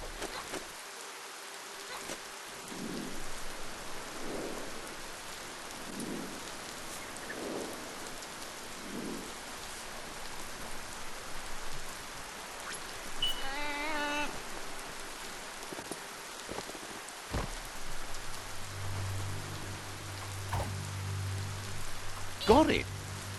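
Rain falls steadily in the video game Biomutant, a constant hiss with low rumbles of thunder rolling through, plus scattered game sound effects and a brief voice near the end.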